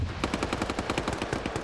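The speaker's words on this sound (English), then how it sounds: "Bond's getting shot at from down the street by Fisher" Rapid automatic gunfire from a military video game, a steady stream of loud, closely spaced shots rattling continuously for the whole stretch with no voices.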